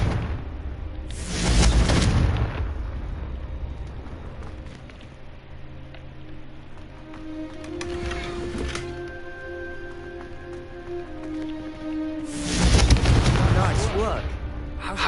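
Confringo fire spell bursts in Hogwarts Legacy: three loud, roaring blasts, one early, a shorter one mid-way and a heavier one near the end, over a steady low game ambience.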